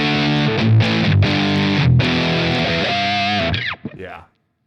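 Heavily distorted electric guitar through a Mesa Boogie style amp simulation plays loud sustained chords and riffs for about four seconds, then cuts off abruptly with a brief squealing bend and silence.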